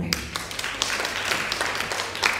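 Audience applause at an Indonesian cooperative and micro-business seminar, a steady mass of clapping with scattered sharper claps, moderately loud and continuous throughout without talk.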